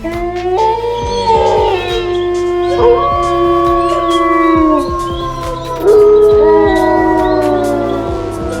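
Several long, wavering howls overlap and rise and fall together, loud and close, like a pack of wolves howling in chorus with no talking.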